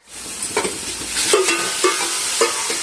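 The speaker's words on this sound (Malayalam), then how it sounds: "നമ്മൾ മിക്സ് ചെയ്ത് വെച്ച ചിക്കൻ ഇട്ടു." Marinated chicken frying in a turmeric masala sizzles steadily at close range, with a few distinct spoon scrapes and knocks against the pan as it is stirred.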